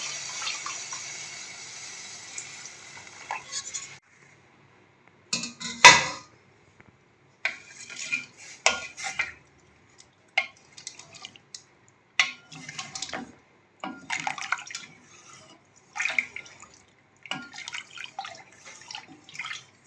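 Full cream milk, about 1.5 kg, pours from a pot into vermicelli for sweet sawayian. A steady liquid stream runs for the first few seconds, then gives way to intermittent splashes, clinks and stirring sounds. No one speaks.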